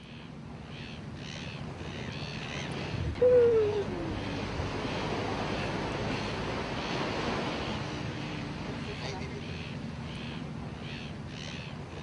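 Sea waves wash onto the shore near Cape Town in a steady, broad surf roar with wind noise across the microphone, plus a brief bird call near the start.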